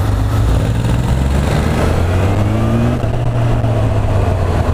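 Honda CB 1000 R motorcycle in sport mode, its engine revving loudly and steadily close by on an open road ride, with a continuous rising and falling drone and no talk.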